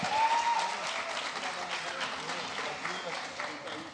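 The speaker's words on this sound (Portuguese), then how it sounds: "uma salva de palmas para essa lenda do esporte" Steady applause from a crowd for marathon runner Vanderlei Cordeiro de Lima, dense and continuous throughout, with a faint tone briefly near the start.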